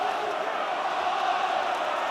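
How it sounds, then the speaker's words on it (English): Crowd at an Ulster v Saracens Heineken Cup rugby quarter-final, a sustained distant roar of many voices swelling steadily without breaks. "The crowd are baying for a penalty for Ulster"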